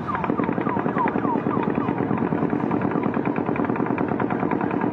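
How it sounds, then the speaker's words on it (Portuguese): Rapid automatic gunfire recorded from a hotel room in Las Vegas rattles on continuously at a distance from across the street, a dense rhythmic stream of shots echoing without pause. "Um turista gravou do quarto dele o som dos tiros."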